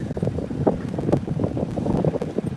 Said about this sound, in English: that's just horrible wind